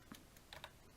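Keyboard typing in Mavis Beacon Teaches Typing, a few faint, quiet key clicks in a short, uneven burst.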